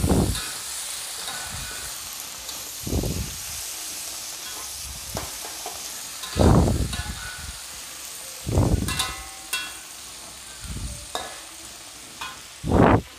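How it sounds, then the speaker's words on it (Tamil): Ingredients for ayam penyet are stirred in a hot pan, with a soft sizzle running throughout and repeated louder scraping strokes of a spatula roughly every two seconds. "இதெல்லாம் நல்லா வதக்கிக்கலாம்"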